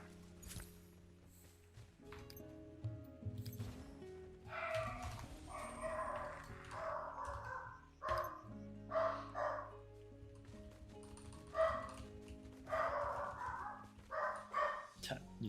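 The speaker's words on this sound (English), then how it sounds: "You guys can hear my dog in the back" A pet dog barks repeatedly in the background at a distance, in irregular bursts under a gaming voice chat with people talking and game sounds.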